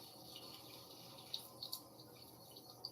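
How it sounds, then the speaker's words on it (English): Water runs steadily from a sink tap with hot and cold handles, a soft continuous hiss with a few faint drips and splashes, heard close and alone with no talking. "So first we start by turning on the water."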